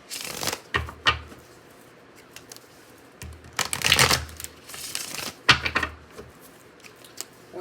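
Tarot cards being shuffled by hand in several bursts of quick riffling and flicking, with short pauses between them, close and fairly loud and with no talk.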